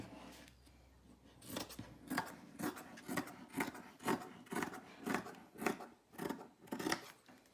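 Scissors snipping through sponge and cotton fabric for embroidered wipes, about eight crisp, evenly spaced cuts in a steady rhythm, close and fairly quiet.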